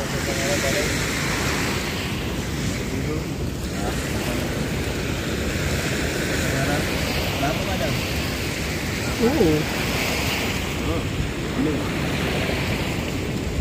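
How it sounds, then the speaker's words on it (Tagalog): Calm sea with gentle surf washing steadily offshore in an open-water fishing setting, a continuous broadband wash with faint wind, and a brief louder splash near the end; people talk faintly underneath. "Kalmang-kalma na ang dagat eh."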